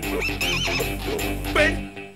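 A horse gives one drawn-out whinny with a wavering, shrill pitch, set against a steady background of tones.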